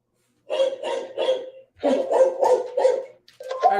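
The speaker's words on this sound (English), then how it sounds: "it's a little dog, and when you turn him on, he woof, woof, woofs" A small dog-shaped Bluetooth speaker plays a recorded bark sequence when switched on: three quick woofs, a pause, then a longer run of loud close barks with a few more starting at the end.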